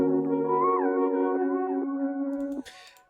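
A guitar lick run through an effects chain glides and bends like a singing voice, a few sustained wavering notes that end with a short noisy burst, moderately loud with no talk.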